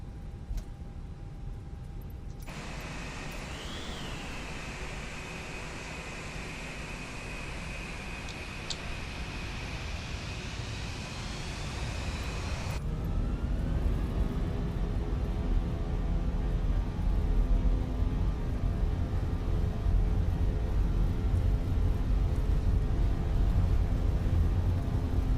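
An Airbus A320's engines in a flight simulator spool up to TOGA thrust for a takeoff roll on a short runway, a steady broadband roar that grows louder and fuller partway through, with no talking.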